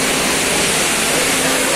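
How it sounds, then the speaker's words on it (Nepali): Water pours steadily down the indoor waterfall at Dubai Mall, a continuous broadband rushing hiss that holds at an even level throughout with no talk over it. "आवाज त आइरहेछ होला नि पानी"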